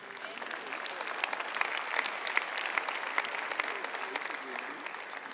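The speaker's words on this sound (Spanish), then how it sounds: "Aguántese el aplauso que viene" A church congregation breaks into sustained applause during a sermon, a dense, even wash of many clapping hands in a large room, with voices mixed faintly underneath.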